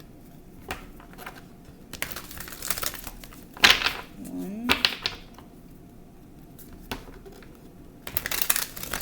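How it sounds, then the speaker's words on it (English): Brief papery riffles and flicks of cards being shuffled, a couple of short bursts, with a voice speaking briefly at the start and end. "so I'm going to shuffle."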